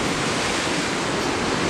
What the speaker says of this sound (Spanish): Donde las olas chocan contra las piedras, ¿pueden ver?